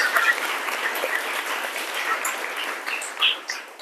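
A classroom audience claps for a classmate, a dense steady patter of many hands that carries through with a brief swell near the end, fairly loud and close.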